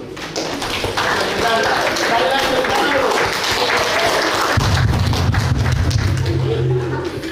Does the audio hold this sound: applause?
yes